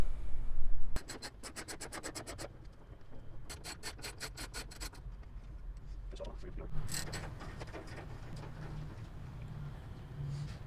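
A ratchet clicks in quick bursts while 10mm headlight bolts come out of a 2001-2007 Ford Escape, with several rapid series of sharp ratcheting ticks close by and a faint rub and scrape between them.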